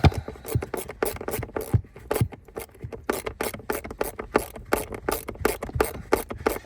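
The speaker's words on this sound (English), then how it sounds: "you're going to get your T20. You're going to start tightening her back down." A T20 Torx driver tightens screws on a Tesla Model Y cabin air filter cover, giving quick, rhythmic rasping turns in short repeated bursts, close and fairly soft.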